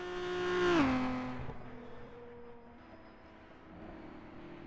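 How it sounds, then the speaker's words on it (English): A two-litre race car engine in a sim racing game of the Isle of Man time trial whines with a buzzy, angry-bee tone, a sharp pitch drop as it passes, then a quieter droning hum that fades away. "Two-litre car sounding like an angry bee."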